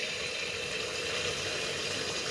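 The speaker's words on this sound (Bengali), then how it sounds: "তেলটা গরম হয়ে গেছে, আমি মালপোয়াটা ছেড়ে দিচ্ছি" Malpua batter dropped into hot oil, giving a steady, dense sizzle and bubbling that stays even and close throughout, with no talk over it.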